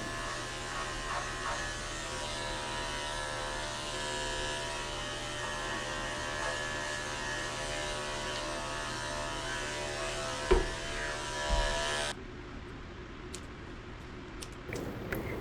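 Electric clippers buzz in a steady, close drone while trimming a dog's fur, running continuously before cutting off near the end, leaving a few soft handling noises.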